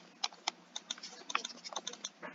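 Computer keyboard typing while entering a spreadsheet formula, a quiet irregular run of soft clicks and taps, close and faint.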